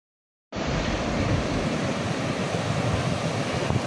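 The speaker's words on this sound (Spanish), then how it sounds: "En el estado de Chihuahua, en el municipio de Ocampo, se encuentra la cascada de Basasiachi." The 246 m Basaseachi waterfall in Ocampo, Chihuahua, a sudden onset of loud, constant broadband roar of falling water after half a second of silence, steady to the end.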